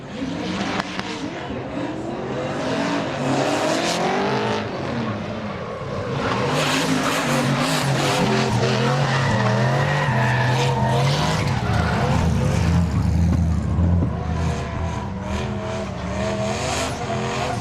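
A drift car at a D1WA pro drift event slides downhill, its tyres screeching in a long, loud, sustained skid over a revving engine, with a commentator talking faintly underneath.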